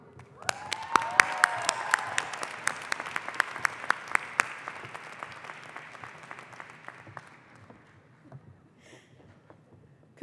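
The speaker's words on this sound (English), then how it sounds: "Let's have a round of applause again." Sustained applause from a graduation ceremony crowd after a bachelor's degree is conferred, dense clapping with a few sharp louder claps, tapering off toward the end, with a faint voice briefly over it.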